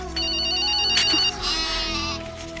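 A cell phone ringtone sounds in a Telugu film scene, a loud electronic warbling melody that carries on throughout, with a faint background hum and no speech over it.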